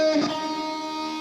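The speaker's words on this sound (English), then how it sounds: "So now what we can do is we can pair it up with this vocal riser right here into this vocal" A panned vocal riser swells into a vocal part, with sustained tonal layers holding steady across about a second with no talking.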